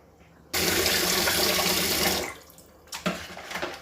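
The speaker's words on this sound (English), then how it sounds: "I rinse them 4 times." Paint brushes rinsed under a running tap, a strong steady gush of water starting abruptly, pouring loudly for about two seconds, then cutting back to lighter splashing and trickling.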